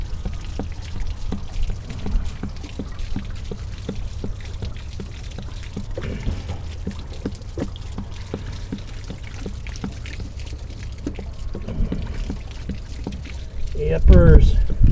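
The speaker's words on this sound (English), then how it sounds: "Gonna drain it from this plug after every trip." Water pours and trickles steadily out of a boat's drain plug, a continuous splashing flow close by that grows louder near the end, with a voice speaking over it.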